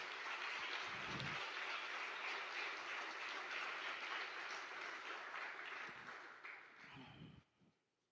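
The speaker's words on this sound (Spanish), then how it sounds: "Dale un gran aplauso al Señor" A church audience applauds in a steady, dense wash of clapping for several seconds, fairly distant and even, then tapering off near the end with no talking over it.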